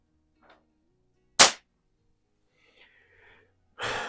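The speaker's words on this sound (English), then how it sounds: "Let's go ahead and shoot a couple sighter shots." A Baikal IZH-46M single-stroke pneumatic target pistol fires two sighter shots. The first is a sharp, loud crack, and after a quiet gap comes a second, softer burst of noise.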